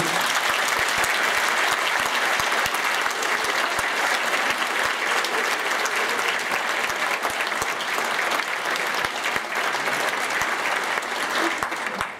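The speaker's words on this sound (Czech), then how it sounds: "tak ho potleskem přivítejme mezi námi" A conference audience applauds to welcome a speaker, with dense, sustained clapping from a large crowd that stays loud and even for about twelve seconds.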